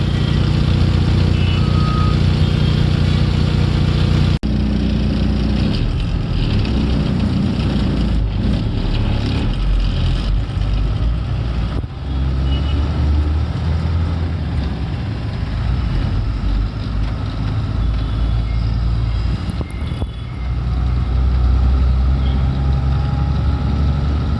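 Busy morning road traffic held at a signal near bridge construction work, with loud continuous engine rumble from idling and passing trucks and cars, occasional reversing beeps and clatter throughout.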